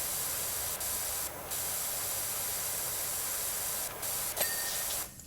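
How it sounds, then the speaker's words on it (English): A pressure washer in PowerWash Simulator 2 sprays a monitor, a dense, steady hiss of water jet that runs continuously with a few brief dips and small clicks, then trails off at the end. "Spraying a monitor with pressure wash."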